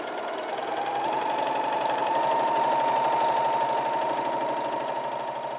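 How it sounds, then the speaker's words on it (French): A sewing machine with a horizontal bobbin stitches rapidly on a fabric scrap without thread, giving a steady, close, even mechanical whir with a fast repetitive clatter. "J'allume ma machine et je fais plusieurs coutures sans fil."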